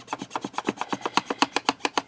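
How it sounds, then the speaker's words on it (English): Foil pressed shiny side down onto clay and burnished by hand, a steady series of about seventeen close, soft rubbing strokes in an even rhythm with no talking. "And I burnish with my hands."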